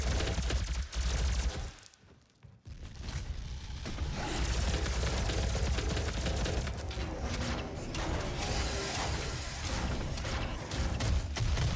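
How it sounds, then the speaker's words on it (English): Gatling gun firing in the video game DOOM SnapMap: a loud, continuous mechanical rattle of rapid shots filling the clip, with a brief drop-out early on before the sustained barrage resumes. "Gatling gun."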